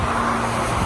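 Cars on a winter highway in Saskatchewan roar past as a continuous, fairly loud rush of road traffic.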